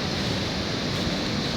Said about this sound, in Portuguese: Olha que é água descendo.